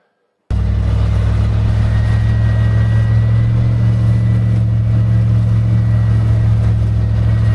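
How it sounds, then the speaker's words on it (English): A van rolls out through deep snow on aired-down tires, its engine starting abruptly and holding a loud, steady, low drone close by for the rest of the stretch, no voices. "The van traveled no problem with the tires aired down."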